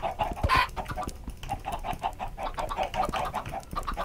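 Minecraft chickens cluck repeatedly in short, busy bursts, with steady farmyard-style clucking that continues throughout and no talking over it.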